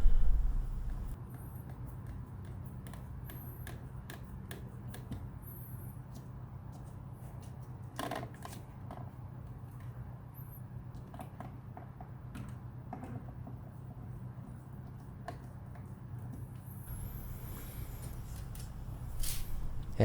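Screws being tightened into an electrical outlet during installation give faint, scattered creaks and small mechanical clicks over a steady low hum, with no talking.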